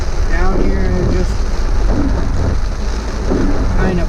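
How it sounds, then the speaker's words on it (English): Steady heavy rain falls in a street in Pagadian City, Mindanao, forming a loud continuous wash with low rumbling underneath, while faint voices are heard now and then. "It's raining."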